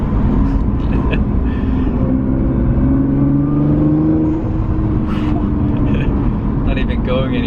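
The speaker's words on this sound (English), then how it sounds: "The blow-off valves is literally insane. So at around 3K RPM or 2800, the valves open up and it sounds so good." A sports car engine revs and idles with a deep rumble and blow-off valves whooshing, heard from inside the car under a continuous loud drone with a voice present.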